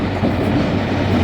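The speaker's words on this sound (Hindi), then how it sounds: "और ये कौन सी ट्रेन है," A passenger train rushes through Jhampir railway station in Pakistan, a loud, close, continuous roar of wheels and carriages with a faint rhythmic clatter.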